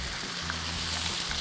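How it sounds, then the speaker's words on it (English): Pork belly liempo sautéing in a pan for a Bicol Express dish hisses in a constant, close sizzle with light popping for a brief moment, no voices. "We're gonna saute this for a couple of minutes and get it nice and brown"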